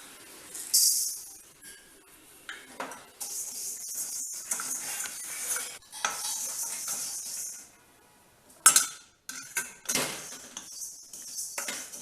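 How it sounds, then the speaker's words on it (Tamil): Moong dal, split yellow lentils, dry-roasting in a pan, with intermittent bursts of close scraping and gritty rattling as the lentils are stirred, separated by short quiet gaps. "இப்போ அடுத்து பாசிப்பருப்பை வறுத்துக்கிட்டுருவோம்."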